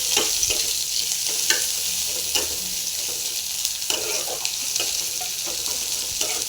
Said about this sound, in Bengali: এবার পেঁয়াজ দেবো। পেঁয়াজটা লাল লাল না হওয়া পর্যন্ত অপেক্ষা করতে হবে।